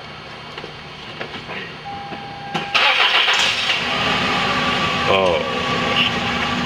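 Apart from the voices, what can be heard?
warmed-up car engine starting and running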